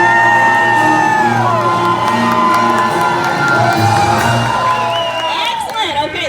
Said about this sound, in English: I want you folks to make as much noise as possible after I say action